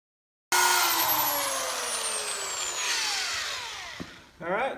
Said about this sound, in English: once you've drilled a pilot on each one of them